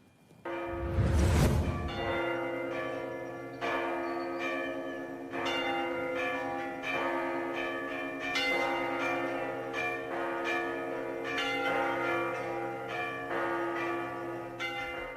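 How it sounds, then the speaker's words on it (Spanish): Church bells ring at noon on Easter Sunday in the streets of a historic city centre, loud and resonant. Repeated strikes overlap into a continuous sustained peal, with a heavy thud near the start. "poco a poco cada campana se escuchaba en las calles del centro histórico"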